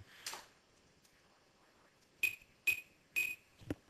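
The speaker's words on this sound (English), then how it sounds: "And our glass breaks, which is very good." Glass panes shattering in the video game Halo 2, a soft early crash followed by three bright, sharp breaking bursts in quick succession and a final louder smash, otherwise near silence.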